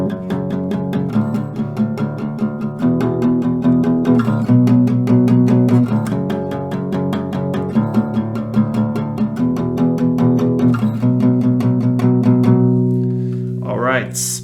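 Acoustic guitar strumming the post-chorus of a song, with steady sustained chords in a regular rhythm played alone and close, ending with a brief bright slide or scrape.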